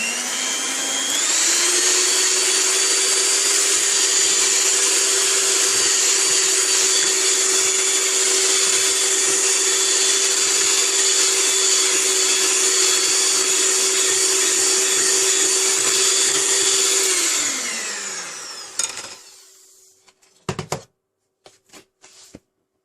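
An electric mixer blends flour and sugar into blondie batter with a steady, loud, high whirring drone that holds evenly for nearly twenty seconds, then winds down, followed by a few clinks and knocks.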